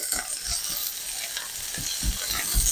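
Vegetables cook and soften in oil in a pan, a quiet steady sizzle broken by a few soft stirring scrapes and clacks.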